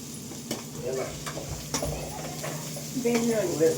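Crushed garlic going into a hot pan at home, giving a low sizzle with scraping and stirring clatter throughout, while voices talk nearby.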